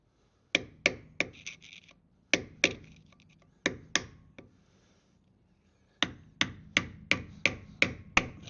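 Hammer blows strike a bent screwdriver during a Defender 90 wheel bearing replacement, sharp metallic whacks in quick clusters of three to six with short pauses between groups, close and distinct.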